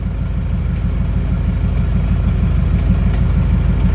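Isuzu Panther diesel engine running steadily with a rough, low, pulsing throttle note as the gas is held slightly raised, close and loud with no talk.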